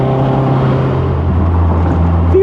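A Westfield Se NA R-T sports car accelerates hard on a launch with heavy wheel spin. The engine gives a loud, close, steady, harmonic-rich drone that holds for the whole stretch and rises slightly at the end.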